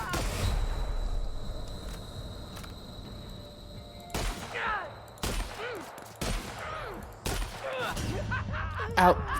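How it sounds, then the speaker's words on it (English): Shotgun fire in the sci-fi video game The Outer Worlds, several sharp booming blasts spaced a second or so apart, loud and close over a quiet game background with a brief voice between shots. "This shotgun is garbage."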